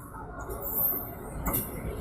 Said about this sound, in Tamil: இப்போ ரயில் பார்த்தீங்கன்னா ஸ்லோ ஆகிடுச்சு பாருங்கள்